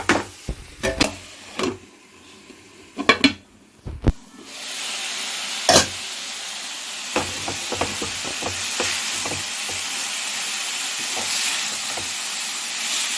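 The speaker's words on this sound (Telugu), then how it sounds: "క్యాబేజీని బాగా ఫ్రై చేసుకోవాలి" Shredded cabbage frying with ginger and garlic in a pan, a steady close hiss and sizzle running throughout, broken by sharp clatters and scrapes of stirring, heavier at the start and then sparser over the constant frying.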